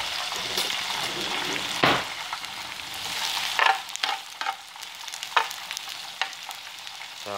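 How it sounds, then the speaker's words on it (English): Close sizzling of onions and mushrooms frying in a pan, a constant hiss broken by occasional clinks and stirring scrapes, with no talking. "So we've got the onions and mushrooms cooking away."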